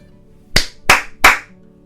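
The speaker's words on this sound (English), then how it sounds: "I start by clapping 3 times" Three sharp hand claps, evenly spaced about a third of a second apart, close and crisp against a quiet room.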